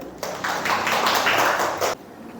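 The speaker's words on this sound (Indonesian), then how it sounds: "Tepuk tangan dulu ya." A short burst of applause from students in a university calculus class, a quick patter of many hands lasting under two seconds and then cutting off.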